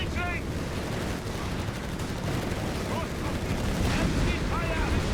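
Machine gun fire crackles through a Company of Heroes 3 battle, steady bursts of gunfire mixed into dense game noise with a commentator talking over it throughout.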